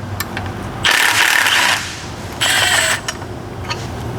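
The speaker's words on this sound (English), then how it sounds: "We're going to take out the bolt holding the bottom ball joint on" Bolt on the lower ball joint of a Can-Am X3 being worked loose with a ratchet or power tool, two distinct bursts of mechanical whirring and clatter, the first about a second long and the second shorter, close by in a quiet shop.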